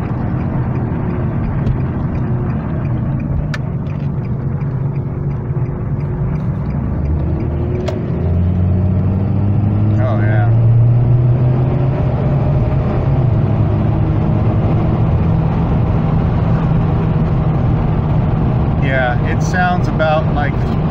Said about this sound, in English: Sounds about like the factory exhaust now, so that worked